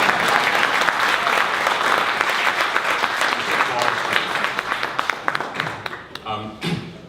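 Dense audience applause at a Moogfest 2014 presentation, a full, steady roar of many hands that thins out and trails off into a few scattered claps and faint noises near the end.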